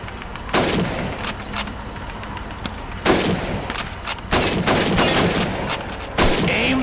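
Rifle shots fired at bottles and plates on a shooting range in Call of Duty 2's Red Army training, a series of sharp loud cracks spaced a second or two apart, with faint background clatter between shots.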